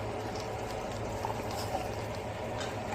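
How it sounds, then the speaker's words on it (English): Egusi seeds fry in a pot while cooking for egusi and onugbu soup, a steady close sizzling hiss that stays even and unbroken throughout. "See, the egwusi is still frying."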